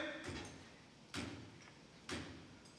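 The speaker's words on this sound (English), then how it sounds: "I get 2 types of knocks here." Knocks on a door in a theatre office, three sharp separate raps spaced about a second apart, close and clear over a quiet room.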